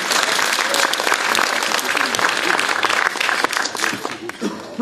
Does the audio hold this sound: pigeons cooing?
no